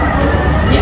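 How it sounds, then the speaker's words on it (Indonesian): A fire truck siren sounds at the KidZania indoor theme park, a brief, loud, sustained wail amid busy indoor noise. "Tuh ambulans, jadi ini kayak di lantai 2. Kok ambulans itu pemadam kebakaran kayaknya,"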